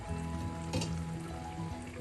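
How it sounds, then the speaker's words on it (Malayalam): Kollam-style small kingfish chilli curry being gently stirred in a pan: a quiet continuous bubbling fry with a low steady hum beneath, a brief scraping stir burst partway through and a clink at the end. "എല്ലാം കൂടെ ചെറുതായി ഒന്ന് ഇളക്കി കൊടുക്കാം."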